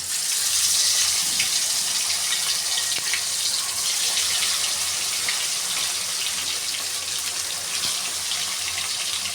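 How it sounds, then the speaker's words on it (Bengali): Vegetable fritters made with pumpkin and mustard leaves fry in hot oil, giving a continuous loud hiss and crackle throughout. "এই যে আমার তেল গরম হয়ে গেছে এখন আমি বড়াগুলো এক এক করে দিয়ে দেবো"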